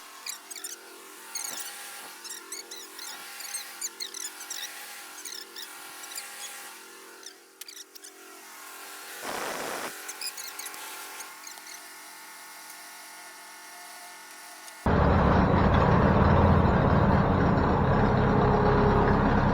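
An old engine that has been warming up idles with a steady rattling rhythm, then takes throttle and rises into a loud, sustained roar close by.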